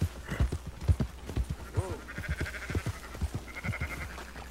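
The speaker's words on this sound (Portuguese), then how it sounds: "Vamos tocar as ovelhas." Sheep being herded in Red Dead Redemption 2, with hoof clip-clop, rustling movement and a couple of thin bleats over a low rumbling bed of game ambience, all fairly close and busy.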